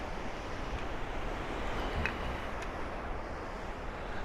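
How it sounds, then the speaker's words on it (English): Huge ocean waves break on the beach at Playa San Juan, a steady, loud broadband roar of surf mixed with wind buffeting the microphone, with no talk. "The waves are huge."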